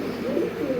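A pet pigeon or dove coos softly in a low, rolling murmur through a brief moment, close and steady with no other sounds.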